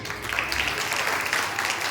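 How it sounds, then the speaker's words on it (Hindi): An audience claps at a UKG class graduation ceremony at Gyan Deep School in Mathura, a steady, dense wash of applause lasting the whole moment at an even, moderate level without pauses. "तालियां बजाने में कंजूसी ना करें।"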